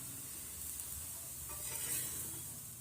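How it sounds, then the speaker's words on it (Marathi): Thalipeeth flatbread roasting in a pan gives off a steady, soft sizzle that holds for the whole stretch, swelling slightly midway, with no voices. "खमंग असं आपल्याला हे थालीपीठ भाजून घ्यायचं आहे"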